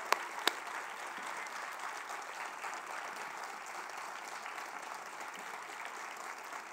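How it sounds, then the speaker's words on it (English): Parents and guests applauding the children after a school annual day play, a steady, fairly soft roll of many hands clapping heard from a distance, with one or two sharper claps near the start. "Loud applause for all the children"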